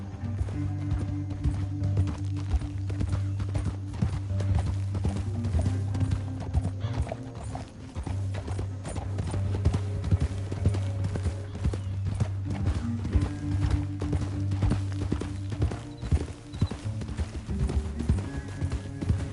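Horse hooves pound in a steady galloping rhythm over a low droning musical bed in the video game Red Dead Redemption 2, with an occasional horse whinny rising above.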